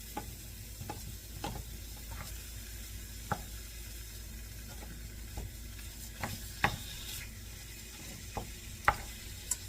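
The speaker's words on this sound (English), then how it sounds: "what I'm gonna do now is just move it around so it can cook" Food frying in a pan gives a low, continuous sizzle while a utensil stirs it, with scattered light scrapes and taps at irregular intervals, close by and fairly quiet.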